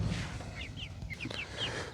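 Chickens in a backyard coop run give soft clucks and short chirpy calls at a moderate distance over steady background noise, with no voices.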